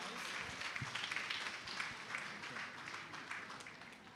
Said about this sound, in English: So let's give them a round of applause, guys.